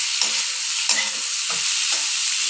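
Chopped onion, a generous amount, sizzles loudly in hot oil in a pan while being stirred for a fish curry; steady bright frying hiss with about four scraping stir strokes spaced roughly half a second apart, no talking.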